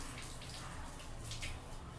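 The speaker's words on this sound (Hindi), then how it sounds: "ये देखिए पानी पूरा खाली हो गया" Water trickles and drains steadily from a plumbing fitting after the main ball valve is shut, during an angle stop cock and health faucet installation; a faint, continuous splashing runs throughout with no talking.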